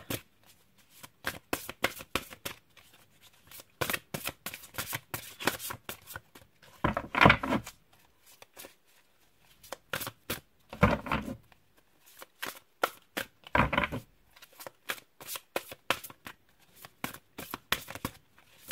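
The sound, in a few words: shuffling tarot cards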